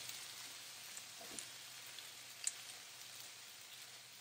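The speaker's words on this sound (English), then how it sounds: "So as I'm cooking off the potatoes" Thyme-seasoned potatoes browning as they pan-fry, giving a faint, steady sizzling hiss with a few tiny pops and no talking.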